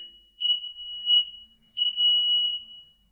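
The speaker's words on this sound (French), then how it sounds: "l'alarme se déclenche" A household smoke alarm going off indoors, giving two loud, piercing, high-pitched pulsing beeps with a short gap between them.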